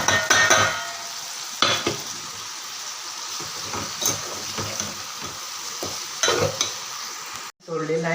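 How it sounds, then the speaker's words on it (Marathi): Pieces of bitter gourd drop into a pan of cooking chutney and fry with a crackling sizzle, broken by several sharp stirring scrapes and taps before a brief cut near the end. "या चटणीमध्ये आता आपण हे कारले सोडून घेऊ"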